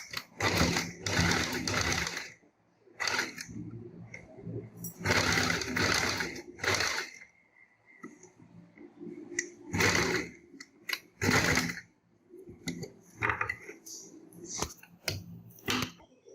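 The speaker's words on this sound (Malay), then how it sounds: "Dan kita akan jahit." Sewing machine stitching a fabric face mask, running in loud close bursts of rapid whirring and chattering separated by short pauses, with occasional handling clicks and no talk over it.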